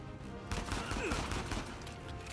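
Gunfire in an Uncharted 4 firefight at a dig site: a dense burst of rapid shots and impacts that starts abruptly and rattles on loudly to the end.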